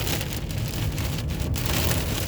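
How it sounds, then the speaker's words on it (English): Heavy rain pounds on a car during a severe thunderstorm while driving home in Spokane, Washington, a loud continuous roar of drops hitting the roof and windshield with no talk. "it's raining hard and crazy"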